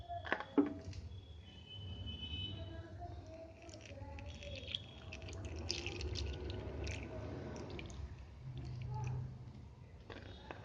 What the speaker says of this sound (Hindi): अब इसमें फिर पानी डालते हैं हम।